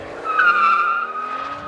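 A Mercedes CL65 AMG on a winding mountain road gives a sustained tire squeal over a deep engine note, swelling and then easing off, with no voices.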